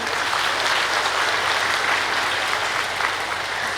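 A crowd at a Brahma Kumaris spiritual gathering in Bettiah, Bihar applauds steadily and loudly, a dense wash of many hands clapping that holds evenly throughout without a break.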